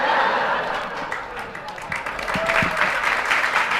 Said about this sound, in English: Applause break.